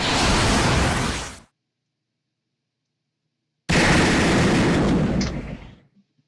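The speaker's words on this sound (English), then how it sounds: "A gunshot? No, it's a cannon fire." Two massive cannon blasts in the Fate/Grand Order game, each a loud, wide roar lasting over a second. The first cuts off into total silence and the second hits hard and fades out slowly with a rumbling tail.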